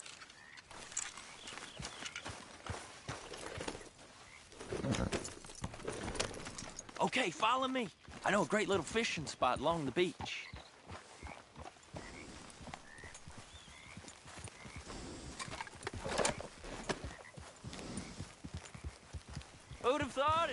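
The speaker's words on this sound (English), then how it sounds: "Grab your horse and let's go." Horse hooves clip-clop and gallop in the Red Dead Redemption 2 video game, a steady rhythmic beat running under dialogue and background music throughout.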